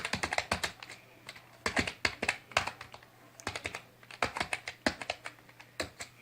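Close, crisp typing on a computer keyboard: quick bursts of key clacks with short pauses between them, and no voices.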